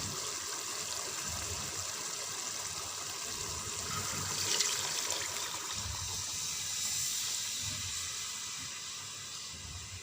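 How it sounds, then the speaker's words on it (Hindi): Water pours steadily into fried minced meat (keema) in a cooking pot while keema pulao is being made, a continuous close gushing and splashing that swells slightly midway, with no talking. "अब मैं इसमें पानी ऐड करूँगी।"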